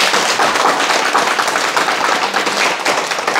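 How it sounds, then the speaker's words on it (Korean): Loud, dense applause from an audience at a Sunday teaching gathering, a continuous crowd of clapping hands filling the whole moment close and bright. "이분 두 분 깨가 쏟아지도록 큰 박수 부탁드립니다"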